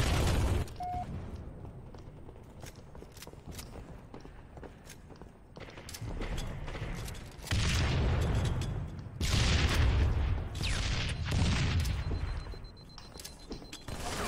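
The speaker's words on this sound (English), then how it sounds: "Stop throwing grenades" Grenade explosions in the video game Halo 2, several heavy booms and bursts spread through the stretch over ongoing game noise and footsteps.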